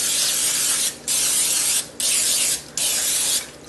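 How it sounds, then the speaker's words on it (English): Four bursts of aerosol cooking spray hiss steadily, each broken by a brief pause, close and loud. "Spray the bottom real good."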